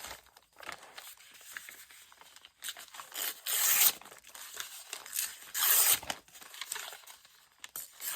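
A paper to-do list from a junk journal is torn apart by hand in several loud, close ripping strokes, some long tears separated by short pauses and crinkling.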